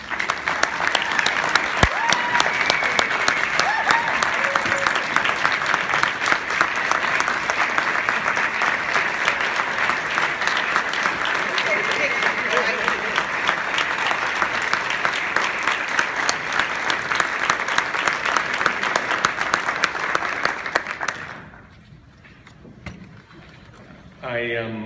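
An audience applauds an award recipient at the ADEC Death Educator Award in 2016, sustained dense clapping from a crowd for about twenty seconds, then it stops abruptly and a voice begins speaking.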